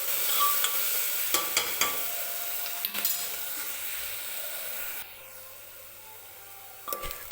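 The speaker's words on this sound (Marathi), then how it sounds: "कांदा जो आहे तो व्यवस्थित तेलामध्ये आपल्याला भाजून घ्यायचा आहे गोल्डन रंग येईपर्यंत" Onion frying in oil with a pinch of salt until golden, a soft steady sizzle punctuated by several sharp scraping stirs of a spatula, fairly quiet and close.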